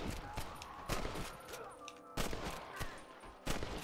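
Gunshots in the video game Red Dead Redemption, sharp single cracks spaced irregularly about every half second to a second at a moderate, fairly faint level, with players talking in between.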